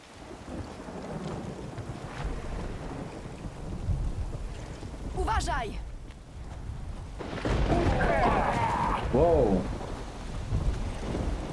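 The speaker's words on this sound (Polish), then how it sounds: "Jakaś magiczna eksplozja. Tak silna, że nawet i echo było groźne." In The Witcher 3, a magic explosion booms as a deep rolling rumble with a long echoing tail and a second surge of noise. A person briefly exclaims during it.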